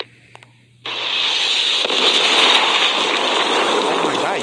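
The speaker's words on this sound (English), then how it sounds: "Friendly predator missile inbound." A Call of Duty predator missile explodes with a sudden loud blast after a quiet moment, then a dense roaring rumble and debris noise that sustains at high level to the end.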